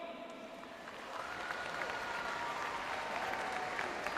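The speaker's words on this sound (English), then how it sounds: "can we please round of applause to Dr." An audience at a mosque event applauds, a steady wash of clapping that swells after the first second and holds at moderate, slightly distant loudness.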